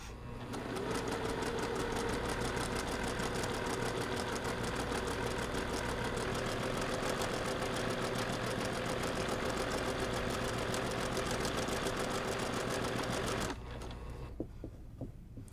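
A sewing machine runs steadily and fast, stitching a straight seam of faux piping machine binding on a quilted table topper; the even, continuous mechanical whir lasts about thirteen seconds, then cuts off, leaving quiet.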